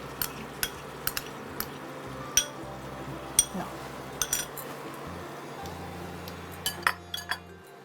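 Mutton curry ingredients for a creamy malaidar mutton being stirred together in a pan, with scattered metallic clinks and scrapes of a spoon against the pan over a low steady background hum, close and fairly quiet.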